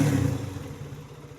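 A recently refreshed motorcycle engine that had been running very noisily runs close by, a loud, steady, throbbing idle with a pulsing low rumble that eases slightly toward the end.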